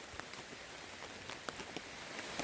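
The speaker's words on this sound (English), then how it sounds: "It's come in another little rain shower, thunderstorm." A faint, steady rain shower falls on a backpacking camp in Kentucky's Red River Gorge, with a constant hiss and scattered soft drops tapping nearby surfaces, no voices present.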